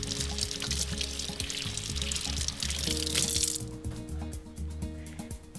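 Water runs and pours steadily from a kitchen tap while dishes are washed up after preparing a bay scallop gratin, a continuous close splashing that shifts and thins toward the end.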